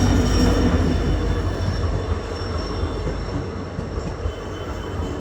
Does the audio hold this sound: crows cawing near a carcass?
no